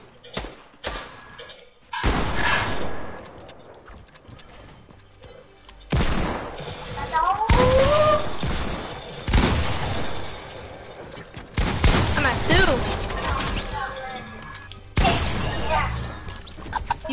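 Gunfire in a first-person shooter match: repeated loud bursts of shots and impact thuds come in clusters across the stretch, with game effects and shouted talk mixed between the volleys.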